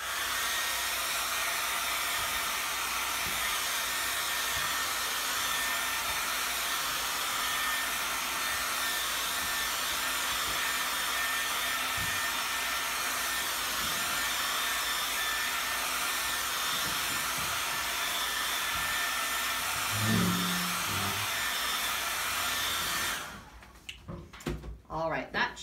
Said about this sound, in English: I'm going to take my blow dryer and just give it a quick blow dry.